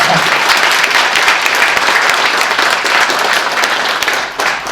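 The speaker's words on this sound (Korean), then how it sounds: "박수 부탁합니다." A hall full of people at a 2019 evening supporters' gathering in Korea claps loudly and continuously, a thick, even roar of applause that holds steady before tapering slightly near the end.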